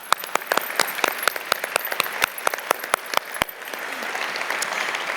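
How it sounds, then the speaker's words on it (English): Audience applauding the honorees at a National Philanthropy Day awards event, scattered loud individual claps at first that thin out and give way to a soft room hum. "you are all winners and deserve a round of applause"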